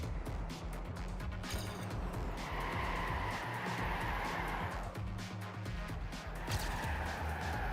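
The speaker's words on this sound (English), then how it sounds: "Drifting through the turn into the tube section." A car in the Trackmania racing game drifts through a turn into a tube section on the Canyon environment, its engine roaring steadily under two stretches of tire squeal and skidding.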